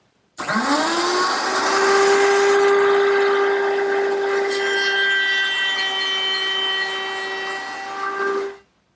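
A router table running a quarter-inch round-over bit on a wooden drawer front, starting abruptly into a loud, steady high whine with a sustained tone that holds for several seconds before cutting off.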